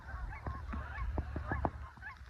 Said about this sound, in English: I don't know if you can hear all those geese or ducks or pterodactyls or whatever they are